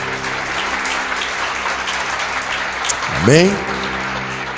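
A church congregation claps loudly and continuously during a worship service, while a preacher speaks over the dense applause and a short, swelling vocal tone rises near the end.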